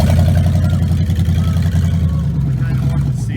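A hot rod with a two-speed Powerglide transmission idles and revs loudly up close, its engine burbling with rhythmic pulses under a speaking voice.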